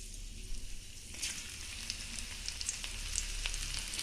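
Fifteen crushed garlic cloves, nigella seeds and two green chilies sizzle in hot oil as a tempering for fried bottle-gourd peel: a continuous close crackle with scattered sharp pops and no talking.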